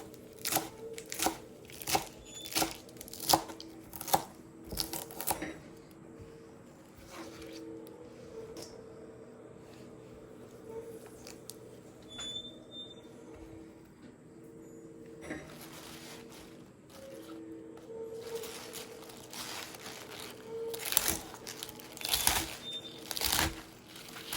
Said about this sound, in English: I'm going to cut the chard first, and then I'm going to cut the kale